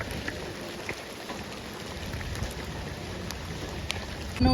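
Rain falls outdoors near a water-filled pit in a steady, even hiss of drops that lasts throughout, with a brief louder thump at the very end and no voices.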